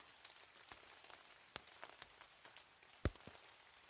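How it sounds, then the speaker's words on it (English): Light rain falls on a Maine morning along the Appalachian Trail in the 100 Mile Wilderness, steady soft patter broken by scattered sharper drops, one louder tap near the end, close and quiet with no talk. "Nice rainy Maine morning here"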